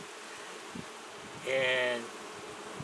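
Bees buzz around a hive being checked for swarm control outdoors, a brief louder buzzing swell passing close by over faint background hum, with a single spoken word.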